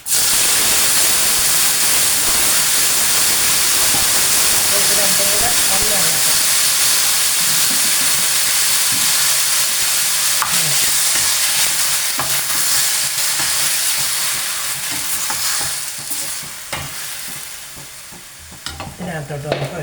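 Thoran vegetables stirred into a pan of frying mustard seeds, curry leaves and dried red chillies, giving a steady loud sizzle and hiss with scraping stir strokes throughout, easing slightly toward the end.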